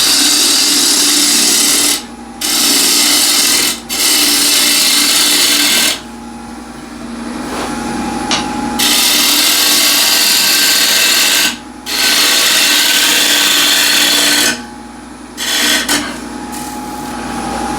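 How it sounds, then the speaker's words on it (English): Bowl gouge truing the outside of a big wooden bowl spinning on a lathe; loud, harsh scraping and rasping comes in long continuous passes broken by several brief pauses, close and up front. "So now the ball is nicely secured on the chuck, so now I can true up the outside first. So for that I'll use a ball gouge."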